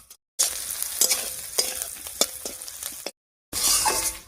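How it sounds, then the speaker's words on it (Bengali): Onion, green chilli and garlic fry in a pan with a bright crackling sizzle and several clinking stirs of a utensil, broken by two short silent gaps. "পেঁয়াজ, কাঁচা লঙ্কা আর রসুন হালকা করে ভেজে নিয়েছি"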